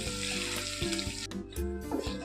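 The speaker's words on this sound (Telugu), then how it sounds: "ఇప్పుడు ఇందులో క్రష్ చేసుకున్న ఎనిమిది వెల్లుల్లి వేసుకొని బాగా ఫ్రై చేసుకోవాలి" Eight crushed garlic cloves fry with buttermilk chillies in hot oil for gongura pappu, a close, steady crackling sizzle punctuated by several short knocks and scrapes as the mixture is stirred.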